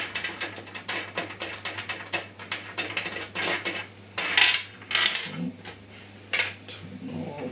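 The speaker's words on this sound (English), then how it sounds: "So now we need to just unscrew these." A screw being backed out of a Parkside bandsaw table during assembly gives a run of close, quick ratcheting clicks from a hand tool, with a few metallic clinks between turns.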